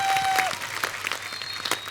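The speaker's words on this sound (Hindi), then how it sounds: "एक बार बोल बच्चन फैमिली के लिए जोरदार तालियां हो जाएं।" Brief, lively applause from a TV studio audience, quick overlapping claps filling the room for about two seconds, with a faint tone and stray cheers beneath.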